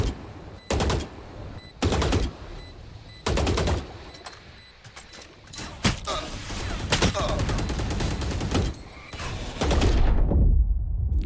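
Gunfire in the video game Valorant, on the Icebox map: sharp, loud bursts of automatic fire come in separate volleys, then grow into a denser, nearly continuous barrage.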